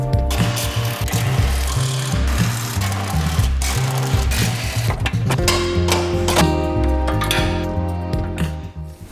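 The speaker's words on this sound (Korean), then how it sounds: "프론트 범퍼 레일을 탈거해서 안쪽을 더 보여드릴게요" A ratchet wrench works on a car's front bumper rail, which was bent in a collision. Rapid, continuous ratcheting clicks with bursts of mechanical whirring sound close and loud, with no talking.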